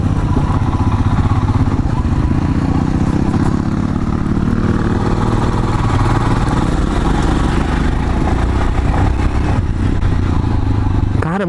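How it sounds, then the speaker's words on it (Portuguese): A Royal Enfield Himalayan motorcycle rides off-road with a steady, close engine drone and rattling clatter from the bike over rough ground, sustained at an even level throughout without clear speech. "vamos ver o que essa moto é capaz no off"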